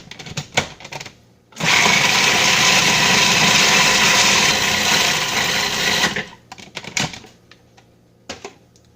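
A food processor whirs through one loud pulse of about four and a half seconds, blending vegan pesto with basil, black pepper and Himalayan pink salt. Short clattering knocks come before and after it.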